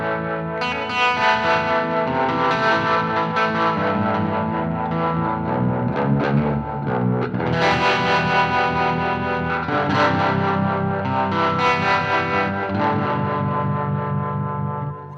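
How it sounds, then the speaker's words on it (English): A baritone Mulecaster electric guitar with a hollow steel body plays sustained, ringing chords and notes, thick with distortion, chorus and echo effects, loud and continuous with no voices. "the hollow steel body guitar, means that this electric guitar sounds like nothing else I've ever played"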